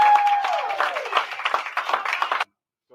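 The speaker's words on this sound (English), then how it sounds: "let's give her a round of applause, y'all" A small live-stream audience gives a brief burst of applause that tapers off and cuts out abruptly after about two and a half seconds, followed by silence.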